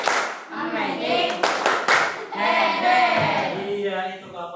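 A group of children plays a clapping game called tepuk head during a closing classroom activity, with a few sharp bursts of hand claps in the middle over continuous chatter and raised young voices.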